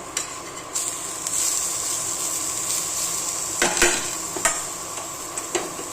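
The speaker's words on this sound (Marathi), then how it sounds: "आता त्याच्यामध्ये ना हा टोमॅटो भाजून घ्यायचा, टोमॅटो ऍड करून घ्यायचा आहे." Tomato frying in a pan for prawn curry sizzles steadily, with a spoon stirring and scraping and clinking against the metal pan several times, close and alone.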